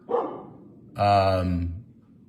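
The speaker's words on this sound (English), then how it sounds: "I apologize for my dog, it's very distracting." A single close, loud dog bark rings out after a brief faint yelp, then trails off into quiet.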